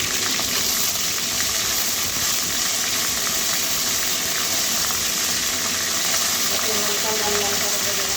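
Pointed gourd (potol) pieces frying in hot oil, a loud, steady broadband sizzle and hiss that runs unbroken throughout, close by, with no talking.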